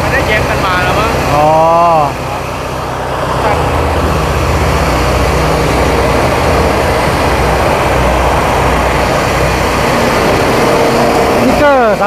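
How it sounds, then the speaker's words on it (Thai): Twin-turbo diesel engine of a combine harvester running steadily, a loud continuous rumble with a tonal whine, while voices talk over it throughout. "เทอร์โบคู่เสียงเงียบเนาะเสียงเงียบกว่าเทอร์โบเดี่ยว"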